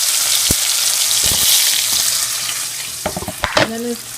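Food poured into very hot oil in a pot for an extra spicy vegetarian dish sizzles and fries loudly and steadily up close, with scrapes and clanks of stirring breaking in toward the end.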